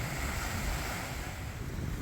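Rough open-ocean surf breaking on an unguarded beach, a steady loud wash of waves with wind buffeting the microphone throughout, no voices.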